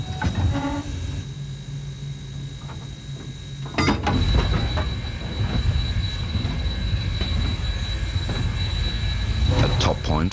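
A steam train on the Zig Zag Railway in the Blue Mountains, New South Wales, rumbles steadily along the rails toward a reversing station, with clattering wheel noise and occasional mechanical squeals, fairly close, with faint voices now and then.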